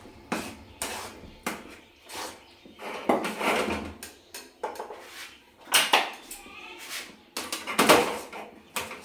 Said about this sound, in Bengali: চালের গুঁড়োটা দেওয়ার পর এটা একটু আমি নেড়ে নেব